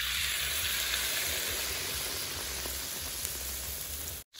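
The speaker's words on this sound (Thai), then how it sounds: "จุ่มทีละใบครับแล้วก็เอาลงทอดทอดให้เหลืองกรอบครับ" Battered mangrove leaves coated with pork paste deep-frying in oil, a steady dense sizzle and crackle close up that runs unbroken, with no talking.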